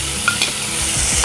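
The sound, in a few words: coarsely blended chili sambal frying and stirred in hot oil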